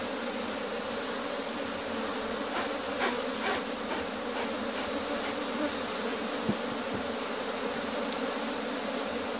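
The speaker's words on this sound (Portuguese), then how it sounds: "porque é um enxame super forte, como vocês podem ver, e defensivo também" A strong, defensive honeybee swarm buzzes continuously around a beekeeping hive box. The dense buzz is loud and close, and scattered taps and knocks from handling the box break in partway through.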